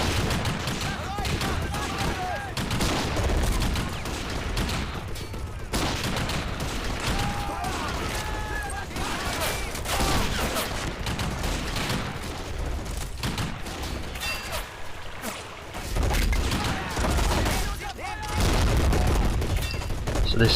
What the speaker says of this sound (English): So this exchange of fire is just continuing between the Russians and the Germans here.